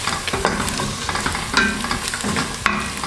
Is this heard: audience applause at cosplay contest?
no